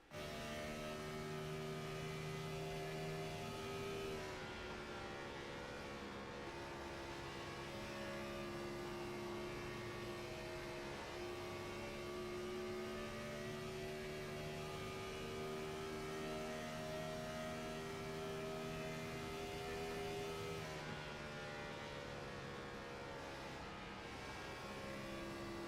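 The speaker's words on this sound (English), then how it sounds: "Listen to the car sing on board with car number 2." On-board racing car engine from the iRacing sim at Chicagoland Speedway, a loud steady high-revving whine with shifting harmonic tones held throughout, briefly dipping and rising again near the end.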